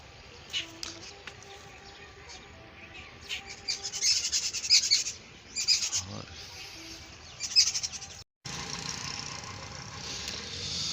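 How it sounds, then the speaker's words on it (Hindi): A bird calls in a village on a cool morning, its repeated chirps and tweets rising over a faint low hum, a few calls clustered together and fairly close. "ये कौन सा परिंदा है?"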